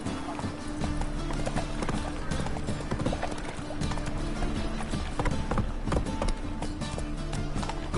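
Roach, the horse in The Witcher 3: Wild Hunt, gallops with steady, rapid clip-clop hoofbeats that run throughout the clip, close and fairly loud, with some voice activity mixed underneath.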